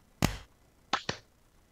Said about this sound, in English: let's do a microphone sync. It'll be 1, 2, 3, clap.